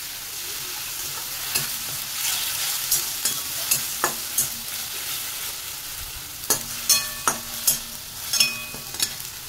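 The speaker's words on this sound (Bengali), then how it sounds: "মশলাটা একটু ভাজা ভাজা হচ্ছে" Spice paste of ginger, garlic and tomato frying in a pan with a steady sizzle, while a spoon scrapes and stirs in repeated sharp clinks and scrapes, close and moderately loud, with no talking.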